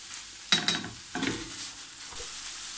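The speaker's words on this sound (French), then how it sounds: "Je viens mélanger. Faire tomber les épinards tranquillement." Spinach wilts in a hot pan as it is stirred, two sharp scraping strokes followed by another stir over a steady, quiet sizzle.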